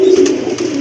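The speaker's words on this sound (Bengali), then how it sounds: "এক জোড়া লাহোরি কবুতর, ইয়েলো কালারের ভিতরে অনেক বড় সাইজের কবুতর" Lahori pigeons, a large yellow pair, coo in a steady, resonant low murmur close by, loud and continuous without any talking.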